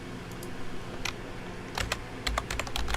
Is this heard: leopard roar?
no